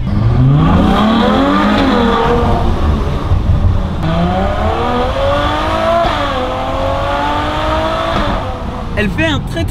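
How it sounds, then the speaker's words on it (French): A car engine revs repeatedly, pitch sweeping up and down in loud surges, with a voice speaking over it. "Elle fait un très très beau bruit cette voiture quand même."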